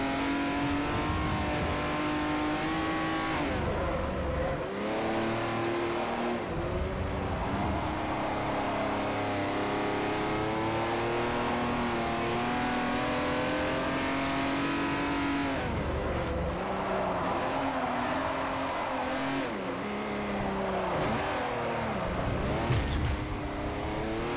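A race car engine in the Forza Motorsport 4 video game revs and climbs through the gears for a sustained stretch, loud and continuous with repeated pitch rises and drops as it shifts and accelerates.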